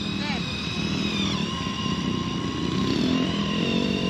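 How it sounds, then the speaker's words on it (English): A motorcycle holds a steady, buzzing high-revving drone during a burnout at a Hooligan flat-track race, heard from a distance as continuous engine noise, with people talking nearby. "Oh, now she's doing burnout."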